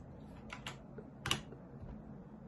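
A password goes in on a computer keyboard: a few faint, sparse key clicks in a quiet room, with one small cluster of taps near the middle.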